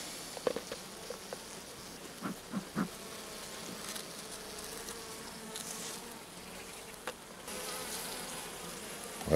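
Bees buzz continuously around a Layens hive during a honey harvest, a dense droning hum with occasional soft taps and knocks nearby.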